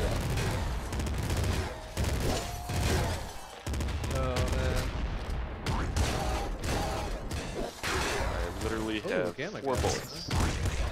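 Assault rifle gunfire in the Nuclear Throne co-op video game, loud repeated bursts mixed with chaotic game effects and explosions, with people talking over the action.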